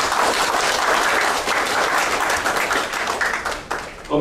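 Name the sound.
audience applause at an award ceremony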